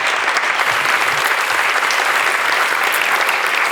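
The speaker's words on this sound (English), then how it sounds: "So please give it up for Michael de Kok." Audience applause following an introduction at a Mindblowers 2023 talk event, a dense, steady clapping from the crowd that holds at an even level throughout, with no voices over it.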